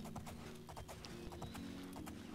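Faint, distant horse hoofbeats in The Elder Scrolls IV: Oblivion clop along in an even walking pace over a low background hum.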